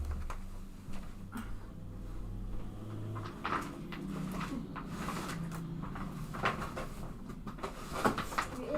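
Someone rummages through a cupboard at home, with a steady run of soft knocks, taps and shuffling clatter at low level over a faint background hum.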